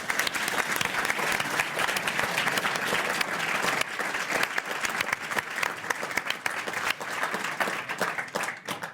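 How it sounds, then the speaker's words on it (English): A studio audience at a Naked Scientists recording in New Zealand breaks into loud, steady applause, dense clapping from many hands that holds for about nine seconds before thinning slightly at the end. "Round of applause."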